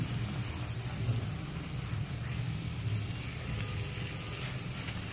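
Moong dal sizzles steadily as it roasts in oil in a pan for halwa, a continuous crackling hiss with no talk over it.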